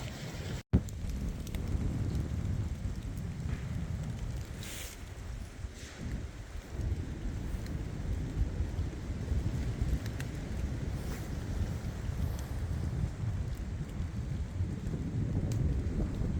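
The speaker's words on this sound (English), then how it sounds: "Here, guys, it's still raining." Steady rain falls with a dense, continuous hiss and low rumble, joined by gusty wind, close and fairly loud throughout, on Pennsylvania public land.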